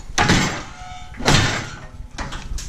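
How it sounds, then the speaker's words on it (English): A metal shear cutting a piece of metal in a racing workshop delivers two heavy, loud clunks about a second apart, each ringing off, then lighter metallic clatter, close by with no speech. "slide it till I touch my shear, and then set down and we'll cut it"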